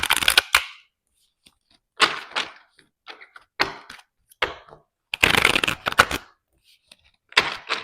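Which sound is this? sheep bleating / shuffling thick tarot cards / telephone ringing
shuffling thick tarot cards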